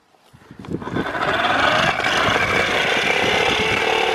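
A small motorized toy bubble-blowing lawnmower starts up and runs with a buzzing, rattling whir that builds quickly and then holds steady, close by.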